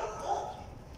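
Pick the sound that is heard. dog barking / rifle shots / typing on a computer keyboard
dog barking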